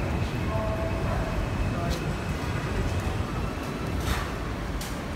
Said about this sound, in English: Let's watch this train